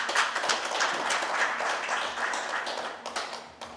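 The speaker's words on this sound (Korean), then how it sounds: "박수로 환영해 주십시오." Audience clapping to welcome a professor introduced at a founding policy seminar in Daejeon, a steady dense patter of many hands lasting several seconds and tapering slightly at the end.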